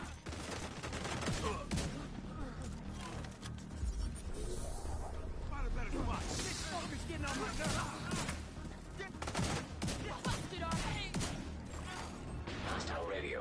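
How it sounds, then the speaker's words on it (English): Gunfire in the video game The Division 2 during a city hall attack, rapid bursts and sustained volleys of shots crackling almost continuously, loud and dense, with voices talking over the firefight. "I hear gunfire."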